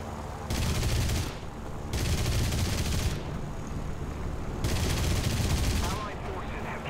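Yak-9 fighter cannon fire in War Thunder comes in three long rattling bursts, loud and close, over a steady engine drone, with brief gaps between the bursts.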